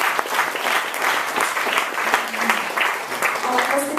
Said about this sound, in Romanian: Haideți să-l aplaudăm pe